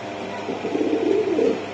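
A Pakistani Teddy pigeon, a high-flying breed, gives a soft, low coo that swells briefly and fades, close by, with faint background noise.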